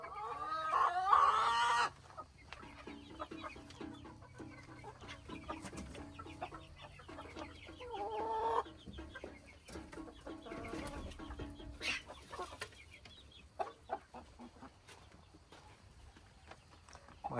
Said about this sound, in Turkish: Gördüğünüz gibi arkadaşlar, şunların hepsi tavuk, şu horoz.